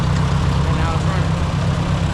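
A Ford 9N tractor engine idling close by, a loud, steady low-pitched rumble with an even throbbing pulse throughout.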